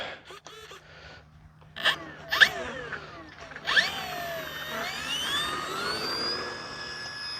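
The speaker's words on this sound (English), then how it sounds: "Motor on." Electric motor of an Arrows F4U Corsair V3 RC plane spinning up outdoors on a grassy field, a rising whine climbing steadily in pitch and holding a high steady tone after a few clicks and bumps.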